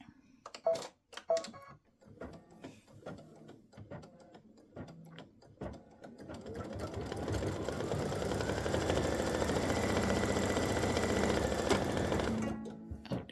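A sewing machine stitches a fabric game board. After some scattered handling clicks and taps, it starts up and settles into a steady, rapid mechanical whir that runs for several seconds before stopping.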